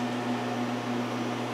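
A vacuum dryer with a polished vacuum chamber, heated by xenon lamps, hums along at a steady, unchanging pitch. The mechanical drone sits at moderate level with faint broadband hiss and no variation from start to end.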